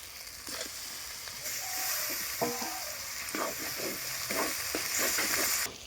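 Tomatoes go into a hot pan with ginger-garlic paste and fry with a steady sizzle, punctuated by several clattering stirs and scrapes of a utensil nearby.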